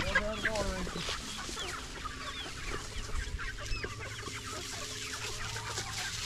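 Several chickens cluck and chatter close by in a steady, busy stream, with occasional louder squawks and some background rustling, on a snowy Tennessee homestead.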